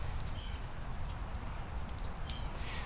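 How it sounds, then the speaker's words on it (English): Rain falls steadily outdoors on a cold day, a soft continuous hiss of drops with a faint bird call or two in the background, no voices. "a day that looks like this, where it's raining, when it's cold"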